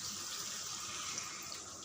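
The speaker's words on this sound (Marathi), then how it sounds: "आणि आता आपण ह्याच्यात पाणी टाकणार आहोत." Water pours steadily into a pan for brinjal vegetable curry, a brief, soft, even splashing rush.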